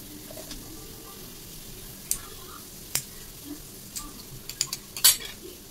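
Chopped onion and garlic fry gently in a pot for a chicken stew, with a soft, low sizzle broken by a few sharp clicks and scrapes of a utensil against the pan.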